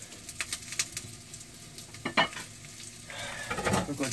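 Potatoes frying in a pan in a home kitchen, a steady close sizzle with stirring scrapes and a louder burst of crackling near the end, with faint birdsong in the background.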